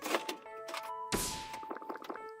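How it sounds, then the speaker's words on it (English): A bottle being drunk from in a dream-diary style indie video game lets out a sharp, loud gunshot-like burst midway, over a background of layered tonal game music with other soft thumps. "It sounds like a fucking gunshot when you drink it."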